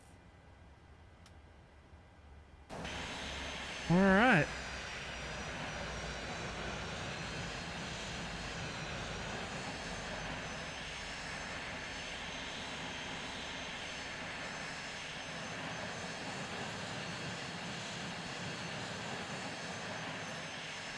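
Boeing 737 engines in a flight simulator wind down on the ground after parking, a steady broad jet roar with a brief tonal sweep near the start, continuing at even level. A voice speaks briefly.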